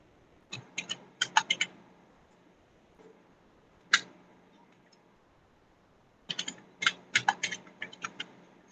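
Close computer keyboard typing during a programming class, in two quick flurries of clicks separated by a single isolated keystroke and a few seconds of quiet, with no voices.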